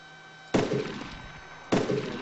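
Two sharp, loud gunshots in the video game DayZ Origins, the first around half a second in and the second about a second later, each cracking sharply before a short decaying tail over a low steady background hum.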